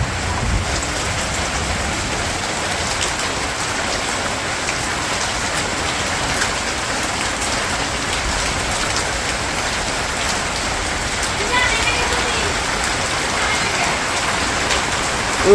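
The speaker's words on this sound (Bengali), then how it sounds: "প্রচুর বৃষ্টি নেমে গেছে" Heavy rain drums down continuously, a loud, even roar of drops on surfaces with no voices, steady throughout.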